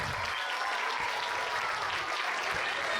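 Audience applause at a sixth-grade middle school dance celebration, dense steady clapping from a crowd filling the whole stretch at moderate level.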